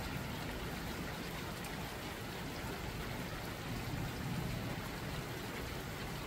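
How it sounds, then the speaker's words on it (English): Heavy rain pours steadily in northwest Houston as Hurricane Beryl approaches southern Texas, a dense, even hiss of falling water with no voices. "Raining in northwest"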